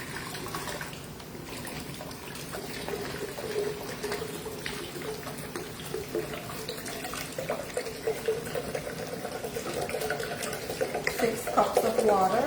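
Six cups of water pour into a pot for cooking chickpeas, a running, splashing trickle that grows fuller and brighter toward the end, with a voice talking over it.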